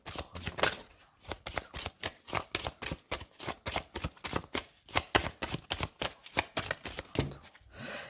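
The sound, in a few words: oracle cards being shuffled for a zodiac reading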